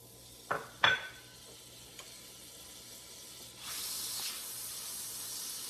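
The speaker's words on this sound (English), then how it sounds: "So I'm going to put my butter in." Butter dropping into a hot pan on a stove: two sharp bumps and a clatter near the start, then a steady bright sizzle swelling up and holding to the end, with no voices.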